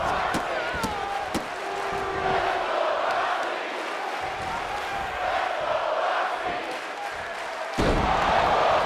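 A virtual arena crowd in the WWE 2K25 wrestling video game roars steadily behind ringside action, with sharp slams and impacts cutting through and a louder surge near the end.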